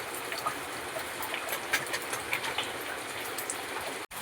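Steady rain falls in a village with a constant wash of hiss and patter. Faint drips and splashes rise above it now and then, with no talk.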